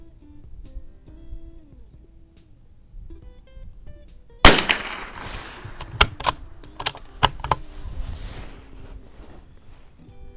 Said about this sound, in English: let's go ahead and shoot another one